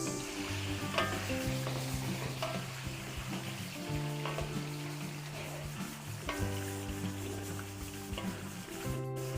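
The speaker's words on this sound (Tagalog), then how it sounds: "Tapos prito tayo dito ng patatas and carrots." Potatoes and carrots fry in a pan with a steady sizzle, broken by clattering stirring strokes at an uneven pace. The cooking is Filipino style, in Bauan, Batangas.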